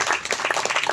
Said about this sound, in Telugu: చప్పట్లు కొట్టి దేవుని మహిమపరచండి